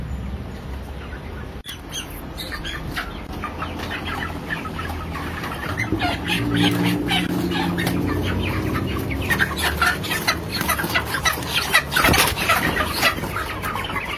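Broiler chickens in a closed-house battery cage coop cluck and squawk continuously, a dense chorus of many birds close by with occasional louder calls, plus clattering cage noise.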